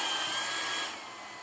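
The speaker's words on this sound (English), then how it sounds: "Now I'm going to just blow dry it with" A hair dryer on its low setting blows over chalk paste on a bear-shaped travel pillow. The airy hiss is close and steady, then drops in level partway through, with no talk.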